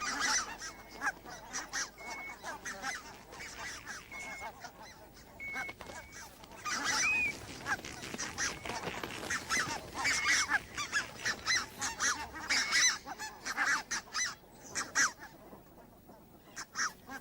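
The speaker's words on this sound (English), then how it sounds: "Among them are rare red-breasted geese." A flock of rare red-breasted geese on the Arctic Russian tundra honks continuously, many calls overlapping in a busy, fairly close chorus with steady background bird chatter.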